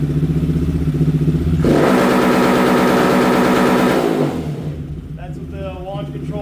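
A Honda Grom motorcycle engine idles, then holds a loud, steady, stuttering rev on its launch control limiter for a few seconds before dropping back to idle, with a voice heard over the engine.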